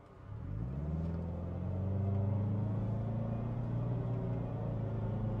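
A 2024 Subaru Crosstrek in Eco Mode accelerates slowly, its engine giving a low, steady rising hum and rumble from inside the cabin, gradually growing a little louder over several seconds.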